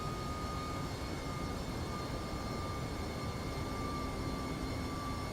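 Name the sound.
Rotate MD-11 jet aircraft engines in X-Plane 12 video game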